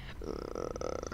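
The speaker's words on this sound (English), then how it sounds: "That was a burp." A belch in a Roblox obby game, one drawn-out, loud burp lasting about a second with a rough, croaking texture, heard alone without talk.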